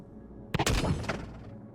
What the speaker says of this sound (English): Right now, these turrets are shooting me.